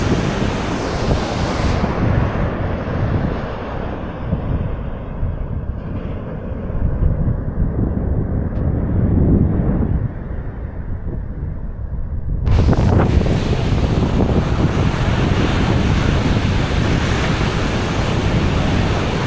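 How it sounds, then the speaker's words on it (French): Big surf pounds a windy beach at Playa del Carmen on a cold-front day, a loud continuous roar of crashing waves mixed with heavy wind buffeting, surging stronger in the later half, with no voices. "Beaucoup de sable qui est remué là, du fond marin avec toutes les grosses vagues."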